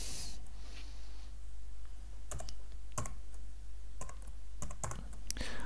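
Keys tapped on a computer keyboard to enter a new value: a few sparse, crisp clicks in small clusters over a low steady hum, close and distinct, with no talking.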